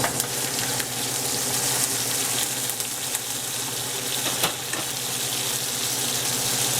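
Continuous sizzling and frying in a hot wok, loud and close, with faint clatter of stirring throughout, while stir-frying thin rice noodles with red pork.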